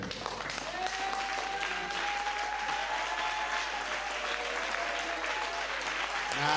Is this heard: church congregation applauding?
yes